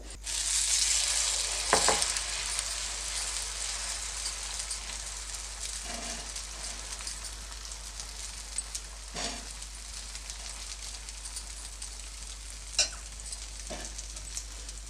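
An egg omelette fries in an oiled pan over a medium gas flame, giving a continuous close sizzle and crackle with a few brief clinks and scrapes at irregular moments.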